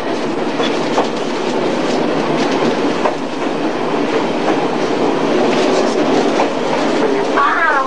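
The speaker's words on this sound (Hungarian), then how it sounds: "A vonaton vagyunk jelenleg a Veresegyházi állomáson." Passenger train running on the rails near Veresegyház station in Hungary, a steady loud rolling rumble with rhythmic clacks throughout and a brief squeal near the end.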